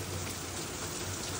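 Steady, heavy rain pours down in a dense, constant hiss with no pauses, close and enveloping.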